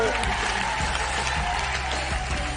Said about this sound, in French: nos invités que je vous demande d'applaudir très très fort